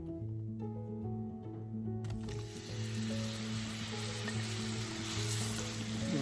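A banana drops into a pan of melted butter and brown sugar and sets off a sudden loud sizzle that holds steady and bright, close up, over a low background hum.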